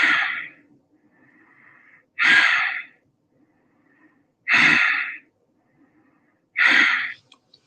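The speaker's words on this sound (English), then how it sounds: "Now take 5 breaths." Four deep, audible breaths during a yoga stretch, each a long airy inhale or exhale rising and falling in a slow, steady rhythm with quiet pauses between, close and alone without talk.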